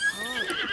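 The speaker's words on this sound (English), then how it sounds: "Even though the horse really doesn't want to go where I want it to go." A horse in the video game Breath of the Wild lets out a single short, high whinny that wavers and fades within a second, heard close and alone.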